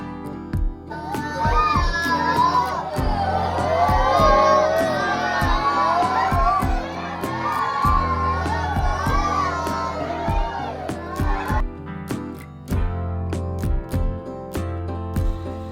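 Deaf children loudly calling out a prayer together in unison: a crowd of young voices shouting and wailing over steady rhythmic knocks or claps, loud and close, then dropping to scattered claps toward the end.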